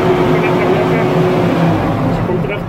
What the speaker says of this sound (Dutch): Die oomblik wanneer ek die briek los, en ek geef vet, kan die trekker begin vorentoe beweeg.